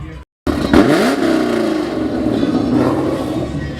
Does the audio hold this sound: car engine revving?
yes